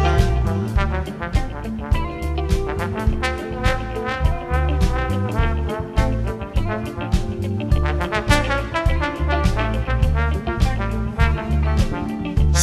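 A tenor or alto saxophone plays a flowing melody of many quick notes over a full band accompaniment. It stays loud and continuous throughout, with no talking.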